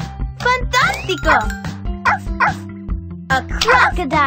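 A cartoon puppy yips and barks repeatedly amid a jingly musical backing in a Dora the Explorer episode, the short bright barks interleaved with children's voices speaking over them.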